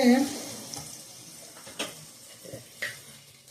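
Egg rice is fried in a pan and stirred, giving a faint sizzle and a few separate spatula scrapes. A soft voice can be heard near the start.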